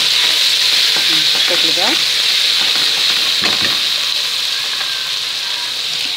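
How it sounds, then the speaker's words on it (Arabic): Peppers and seafood stir-fried together in a hot pan, a loud continuous sizzle with scraping stirs near the start and middle; a brief spoken phrase comes in. "وبعد كده نحط الفلفل، نشوح كله مع بعض"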